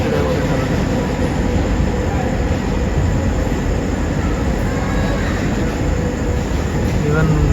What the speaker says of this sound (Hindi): एक्चुअली कार कैरियर की कुछ तरह की ट्रेन लग रही है।